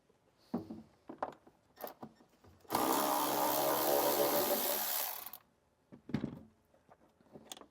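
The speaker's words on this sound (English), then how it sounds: "Use a 10mm socket to remove those." A 10mm socket on a ratchet or power driver spins off the plastic threshold nuts of a 2023 Porsche: a steady, loud whirring burst of about two and a half seconds, framed by scattered small clicks and handling knocks.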